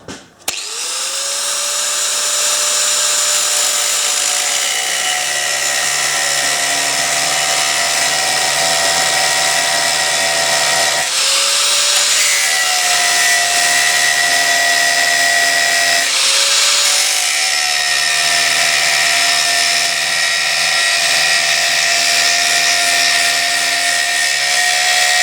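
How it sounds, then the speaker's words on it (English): A power drill runs steadily right next to the gas strut of a sewing table's lifter mechanism, a loud continuous whine that dips and restarts twice, close up with no talk. "Being very careful not to drill into the gas strut, because I reckon that would be a disaster."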